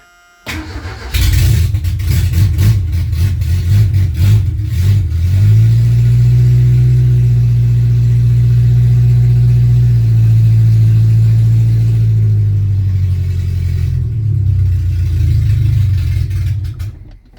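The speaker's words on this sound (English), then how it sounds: "Here we go. Cold start." A barn-find Ford Thunderbird with a sticky choke cranks briefly, then fires and catches on a cold start, its engine surging loudly before settling into a rough, steady idle close by.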